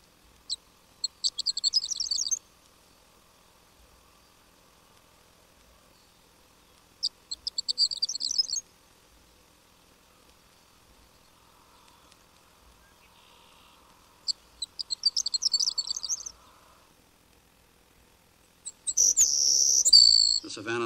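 Three short bursts of high, tinkling prairie horned lark song, sung from a boulder in a field, spaced several seconds apart, then a louder, longer burst near the end, over a faint low hum of nearby road traffic.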